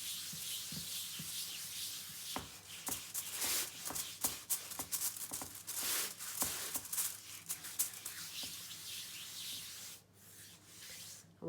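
Icing on a Christmas cake is smoothed all the way around with steady rubbing and scraping strokes, a continuous close textured swish broken by sharper scuffs and a brief lull near the end, with no talking.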